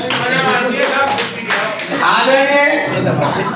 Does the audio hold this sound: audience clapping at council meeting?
yes